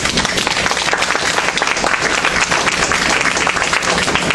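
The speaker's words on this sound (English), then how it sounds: "You want to give her a round of applause." A crowd at an evening event honoring civil rights leaders gives loud, dense, sustained applause that fills the whole moment, with a faint murmur of voices mixed in.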